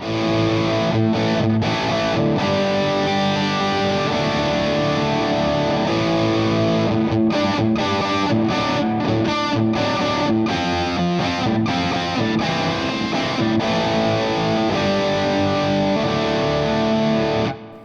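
An electric guitar played through a Two Notes Revolt analog preamp on the lead channel with gain near halfway and no delay, a loud, sustained distorted tone with chugging riffs and short breaks between phrases.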